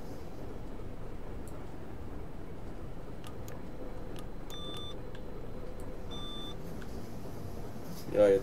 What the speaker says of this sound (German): Ja, jetzt fängt das Piepen an.